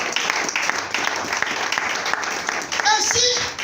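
A church congregation applauding with steady, sustained clapping that carries on throughout, while a voice talks over it.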